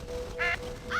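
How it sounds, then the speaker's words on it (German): Crows around a silo in the video game Red Dead Redemption give two short, harsh caws a moment apart over a quiet background hum. "Verscheuche die Krähen aus dem Silo."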